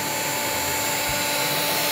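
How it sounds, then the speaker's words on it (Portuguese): A hair dryer blows steadily to dry craft paint on a tin, a loud continuous whooshing hum with a constant whine throughout and no voices. "Pode fazer com secador de cabelo."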